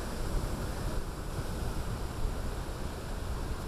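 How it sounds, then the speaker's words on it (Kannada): Ocean waves crashing along the coast at Malpe Beach in Karnataka during a cyclone warning, a dense, continuous roar of surf mixed with wind, loud and unbroken throughout. "ಕರಾವಳಿಯಲ್ಲಿ ಅಲೆಗಳ ಅಬ್ಬರ."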